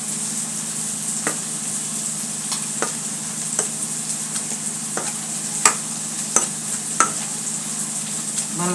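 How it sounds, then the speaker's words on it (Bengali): Cooked teasel gourd being mashed with a masher for a bharta, giving scattered soft taps and squelchy knocks at irregular intervals over a steady low kitchen hum. "এবার আমি ম্যাশার দিয়ে ম্যাশ করে নেব কাঁকরোলগুলোকে,"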